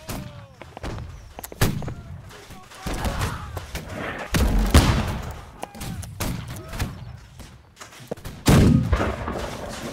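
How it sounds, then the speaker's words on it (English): Mortar and gunfire from the Holdfast: Nations At War battlefield: repeated sharp booms and cracks, several loud heavy blasts around the middle and end, with scattered shots between and no talk. "the mortar going."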